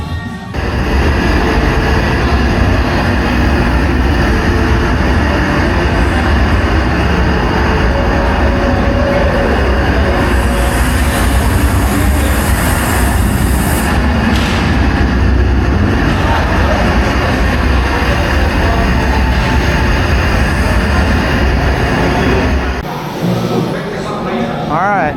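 Steady, loud rumble of a moving theme-park train at Universal's Islands of Adventure in Orlando, with a rattling, rushing ride noise that drops off abruptly near the end.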